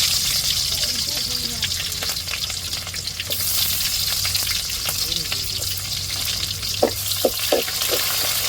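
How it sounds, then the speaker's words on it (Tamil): Onions frying in hot oil with popped mustard seeds, a steady close sizzle running throughout, with a few sharp clicks and light stirring taps toward the end. "இப்போ கடுகு பொரிஞ்சிருச்சு நம்ம வெங்காயத்தை சேர்த்துக்கிடுவோம்"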